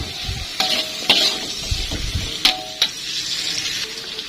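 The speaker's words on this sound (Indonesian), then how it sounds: "Kita aduk-aduk sampai bumbunya merata." A utensil stirs salted squid with spices in a sizzling frying pan, steady hiss with scraping strokes and a few bright metallic clinks against the pan, close up.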